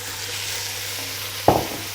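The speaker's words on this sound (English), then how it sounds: "to the onions and I'll fry them together for 5 minutes." Lamb and onions frying together in a pan for Persian qormeh sabzi, a steady soft sizzle with a sharp stirring clatter partway through, no talk.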